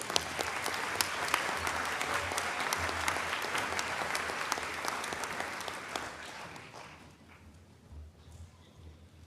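Applause at a 2019 university commencement ceremony honoring Honors Program graduates: a large crowd claps steadily for several seconds, then the clapping thins out and fades toward quiet.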